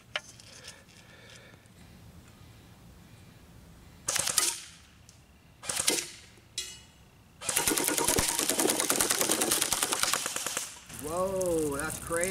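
A BARRA 400E electric airsoft AEG rifle fires on full auto, with short rattling bursts followed by one long sustained burst of rapid mechanical clicking, close and loud, and a voice exclaims near the end.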